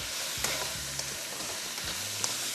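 Peas, beans and carrots with a little salt stirred in a frying pan, a steady close sizzle with soft scraping strokes and a few light clicks of the spoon against the pan.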